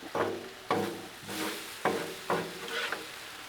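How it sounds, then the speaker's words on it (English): BBQ chicken being stirred and mixed on a Blackstone flat-top griddle, with repeated scraping strokes over a steady sizzle, close and fairly loud, no talking. "Let's just give it a good mix now. Get it all mixed in with that barbecue."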